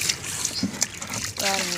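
Water trickles and splashes as it is poured into a fish tank while little fish are released, a steady close wash of noise with a voice breaking in near the end.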